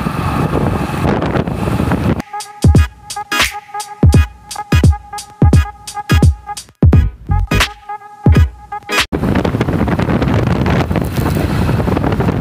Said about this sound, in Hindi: मतलब कि इतना जोर से तूफान आया ना कि मुझे रास्ते में बाइक रोकनी पड़ी